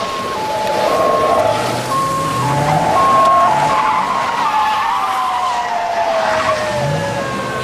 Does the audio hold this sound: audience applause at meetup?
no